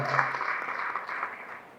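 Crowd clapping at a Congress party joining event for a village sarpanch couple and deputy sarpanch, a brief soft burst of applause heard from a distance.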